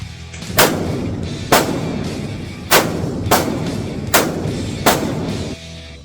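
A WWII-era 1911 A1 pistol test fired at an outdoor range, with six loud, sharp reports spaced roughly a second apart, each cracking out and ringing briefly before the next.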